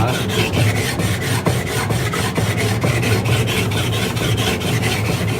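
Steel back of a plane iron rubbed back and forth on a whetstone during woodworking sharpening, a steady, close rasping scrape in an even rhythm of strokes that runs throughout with no talk.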